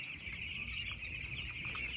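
A crowd of chicks on a village poultry farm keeps up a steady, dense chorus of high peeping that runs through the whole clip at moderate volume.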